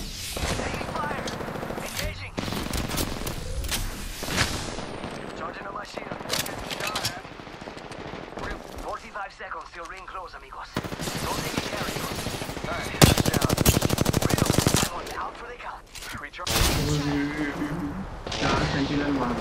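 Machine gun fire and gunshot bursts in the Apex Legends video game, repeated loud volleys scattered through the stretch, mixed with game voice lines and player chatter.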